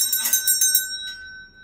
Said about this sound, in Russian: Колокольчик. Дзынь-дзынь.